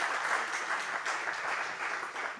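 An audience at a festival of Eastern Christians applauds the benefactors of a charitable organisation, a steady, moderately loud spread of many hands clapping throughout.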